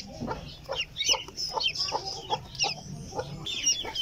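A Silkie hen clucks softly and low while her six newly hatched chicks, three white and three brown, peep in rapid high-pitched chirps close by, all overlapping in a busy, continuous chorus.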